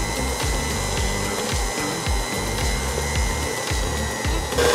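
Electric mixer beating marble sponge cake batter at low speed, a steady close whirring drone with rhythmic low pulses from the beaters running throughout, no voices.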